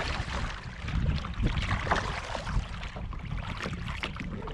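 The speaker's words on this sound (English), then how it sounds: "it is very windy right now, and you can see I'm easily keeping the kayak pretty decently straight right now, just by paddling" A kayak is paddled on a river in strong wind: steady broadband gusting and wind buffeting the microphone, with water splashing and paddle strokes faintly audible, and no voices.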